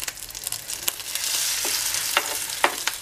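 Homemade rice torrejas, fritters, fry in a pan with a constant close sizzle, broken by sharp spatula taps and scrapes as they are moved.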